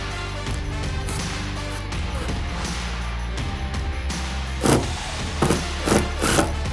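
Long wood screws are driven into pre-drilled holes in a fire door, mechanical whirring and grinding from the driver giving way to several short loud bursts toward the end, close up.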